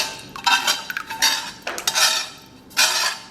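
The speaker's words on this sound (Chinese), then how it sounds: "然后咱们给里边来点水，炒好的料给它下到锅中" Water and stir-fried spices such as star anise, cinnamon bark, bay leaves and dried chilies go into a cooking pot for braised spicy beef, heard as a few close, loud clanks and clinks of metal cookware in bursts, with no talking.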